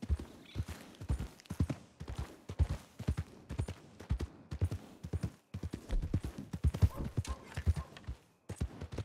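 Horse hooves clip-clop in a steady, close rhythm as a horse-drawn cart passes, each strike crisp and distinct, continuing with a short gap midway.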